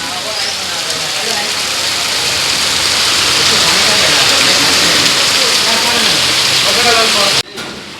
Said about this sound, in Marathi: पाऊस अजून चालूच आहे.